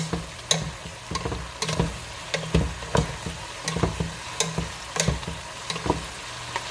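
Meat and vegetables stir-fried for stir-fry noodles, a loud close sizzle broken by regular sharp clacks and scrapes of a utensil against the pan, roughly one or two per second.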